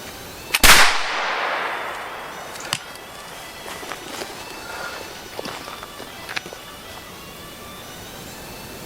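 A flintlock long rifle loaded with 70 grains of Swiss 3F black powder fires once, with a sharp, loud blast trailed by a decaying outdoor rumble, followed by scattered faint clicks and knocks at the range.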